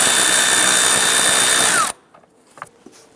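A power drill fitted with a 5/16 shallow socket spins to loosen the hose clamp on the air intake tube at the throttle body of a 2011-2021 Jeep Grand Cherokee 3.6L V6. The whir is loud and close, then stops sharply, leaving faint clicks.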